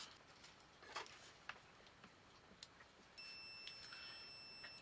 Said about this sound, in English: So the continuity test, you'll hear a beep.